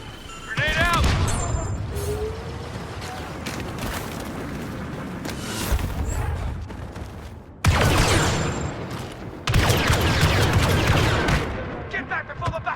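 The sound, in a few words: grenade explosion and gunfire in video game Star Wars Battlefront 2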